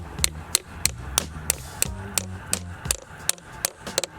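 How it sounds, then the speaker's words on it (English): A hammer taps a metal tap into the trunk of a maple tree, a dozen or so sharp, close knocks in a steady rhythm, each strike clear and alone. "just tap the tap with a hammer"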